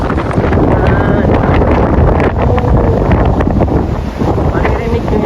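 Strong typhoon wind roars continuously in Hong Kong, buffeting the microphone with loud, gusty rushing noise for the whole stretch, with brief background sounds mixed in.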